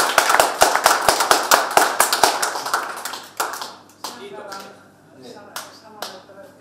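An audience at a public town-hall discussion on biogas production in Kuusamo, Finland claps. A burst of sharp, close applause fades out after about three seconds, and scattered voices and murmuring follow.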